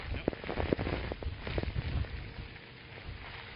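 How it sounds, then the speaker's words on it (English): Torrential hurricane rain from the outer eyewall of Hurricane Irma in Naples streams down a road in a steady, dense hiss with crackling spatters, fading slightly toward the end. "This is more rain than we've seen so far today."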